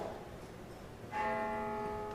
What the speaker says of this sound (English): There's a rope, a skinny rope. Skinny rope, toll the bell.